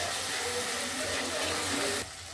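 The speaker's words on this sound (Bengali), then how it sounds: "একটা কাঁচা লঙ্কা দিয়ে মশলাটা খুব ভালো করে কষবো।" Spice masala with green chili fries in a pan, a dense close hiss of sizzling that runs steadily and then drops off sharply near the end.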